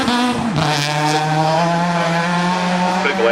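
Super 2000 rally car engine screaming at high revs during the Rally of South Australia, a loud, close, sustained whine with a quick pitch drop early on, then steady buzzing harmonics throughout.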